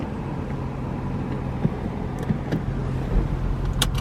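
Steady engine and road noise from inside a BMW E93 M3 on the move, a constant low drone with faint clicks and rattles in the cabin and no talking.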